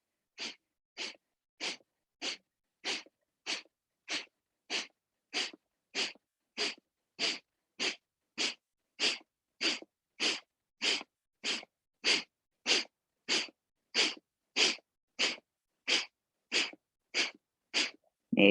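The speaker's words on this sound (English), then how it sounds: "quick exhales." Sharp, short exhales of yogic breath-of-fire breathing, a steady series of about thirty forceful nasal puffs at an even rhythm, close and alone with no talking.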